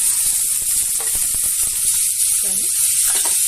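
Boiled cluster beans fry in a pan with turmeric, a steady bright sizzle and hiss punctuated by a few soft clicks and stirring taps.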